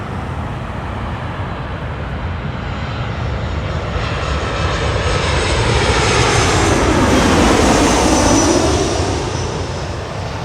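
An eight-year-old WestJet Boeing 737 jet from Calgary at Los Angeles International Airport, loud roaring engines swelling as it passes near, peaking with a sweeping whine and then easing, no voices.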